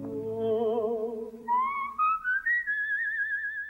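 Melodic whistling added to the main song of the Mexican film Nosotros los pobres, a clear wavering line that climbs in pitch, with short phrases and gliding notes, alone and close.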